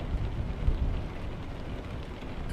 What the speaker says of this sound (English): the rain is too heavy and the wipers aren't able to keep up with the amount of rain falling on the windscreen.